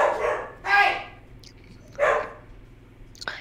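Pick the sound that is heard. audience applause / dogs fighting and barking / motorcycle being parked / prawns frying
dogs fighting and barking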